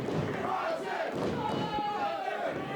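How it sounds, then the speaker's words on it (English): A crowd at a live wrestling event cheers and roars for a wrestler, a loud, sustained wash of voices with shouts rising and falling, filling the arena evenly. "listen to this crowd cheer for Bronson"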